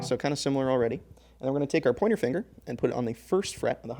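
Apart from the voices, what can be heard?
No distinct noise like a dog, phone or traffic.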